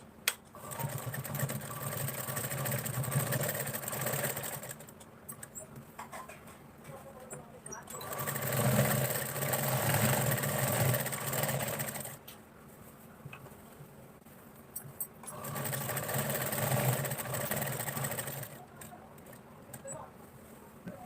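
A sewing machine stitches along a fabric edge in three long whirring runs, each lasting several seconds and separated by short pauses, loud and close.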